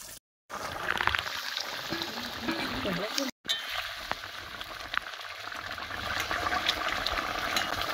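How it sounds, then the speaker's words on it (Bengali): Water poured into a pan of snakehead fish curry cooking in a home kitchen, giving a steady bubbling, sizzling hiss with brief dropouts, while people talk in the background. "জল দিয়ে দেওয়া হচ্ছে।"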